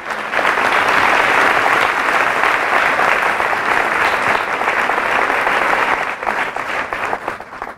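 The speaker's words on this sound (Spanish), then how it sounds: "Fuerte ese aplauso a Jesús." A church congregation at a Catholic service claps loudly and continuously in a sustained round of applause, holding strong before thinning out slightly in the last couple of seconds.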